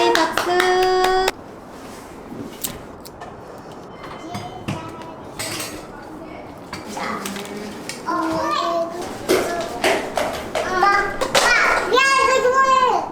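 In a home, a few hand claps praise a small child, scattered and short amid a child's chatter and an adult's voice, with light clinks and taps of household objects nearby.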